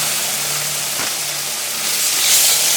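Seasoning blend dropped into a hot gumbo pot sends up a loud, close hiss of sizzling steam that holds steady and then swells briefly near the end.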